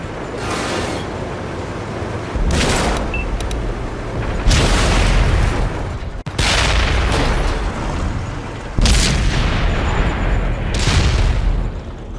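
Tank cannon shots from an American T110E4 tank destroyer firing HESH rounds on the El Halluf map in World of Tanks, several loud booming blasts spaced a few seconds apart over constant engine rumble.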